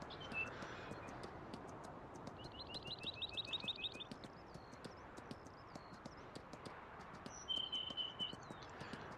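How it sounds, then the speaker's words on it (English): Horse hooves clip-clop in a steady cantering rhythm through Farming Simulator 19, with birds chirping and trilling in short bursts over a continuous outdoor ambience. "I can hear the birds and the gallop of my horse."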